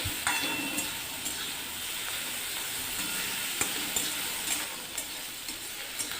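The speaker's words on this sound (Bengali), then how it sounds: "এবার একটু নেড়ে চেড়ে কুচো চিংড়ি কটা ভেজে নেব।" Small prawns frying in a pan, a steady soft sizzle with faint clicks and scrapes of stirring scattered throughout, close and alone without any voices.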